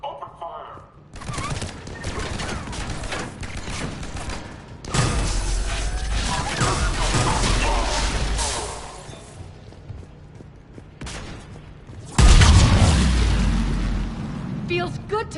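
Sustained bursts of automatic gunfire in a Mass Effect 3 firefight, loud and close, coming in long stretches with brief lulls between them, with voices speaking over parts of the action.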